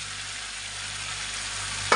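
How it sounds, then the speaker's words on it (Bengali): Fish dropped into a pan of fried spice mixture, giving a steady loud sizzle and frying hiss throughout, with a brief clink near the end. "এখন মাছগুলো দিয়ে দেব।"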